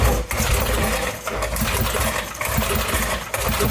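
A small engine with a compression release being turned over by hand for a compression test gives a steady, close mechanical whirring and clattering that runs the whole time, with brief dips, and no voices.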